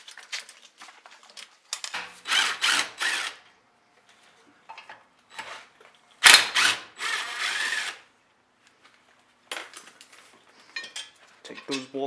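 A ratchet and socket breaking loose the brake caliper bracket bolts on a 2012 Mazda 3 front brake. Several bursts of close, sharp metallic clicking are separated by short pauses.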